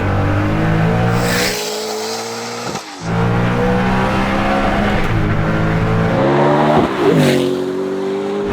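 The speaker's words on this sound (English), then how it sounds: "he's going to do a second gear roll on, and this is what it feels like" A Hennessey Venom F5 supercar engine roars as it accelerates hard in second gear, revs climbing steadily, with a brief drop before the pitch rises again. It is loud and close.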